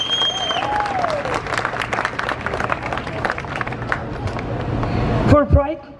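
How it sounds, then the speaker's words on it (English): An audience at an outdoor Walk of Fame ceremony applauds in a sustained round of clapping, with crowd voices, a whistle early on and a brief tonal sound at the close. "Let's do a big round of applause for that."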